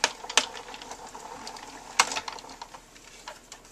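Big Shot die-cutting machine cranked by hand to push an embossing folder with paper between cutting plates, giving sharp clicks and ratchety ticks, two louder snaps among lighter rattling at close range.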